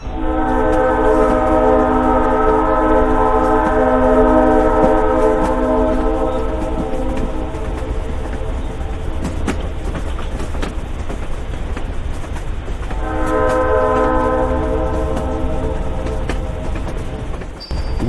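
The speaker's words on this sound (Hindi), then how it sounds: "थोड़ी देर बाद ट्रेन आती है।" A train pulls into a railway station, its loud horn blaring in long sustained blasts over the rumble of the wagons, then sounding again after a brief pause.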